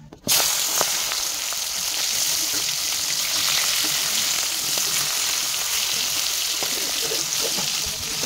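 Prawns fry in hot oil in a wok, a loud, dense, continuous close sizzle that crackles with scattered pops and runs without a break throughout.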